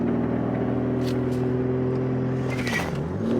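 A 2021 BMW M3 on a bumpy road bogs down during a launch attempt, its engine droning steadily at close range before the pitch sags and falters near the end.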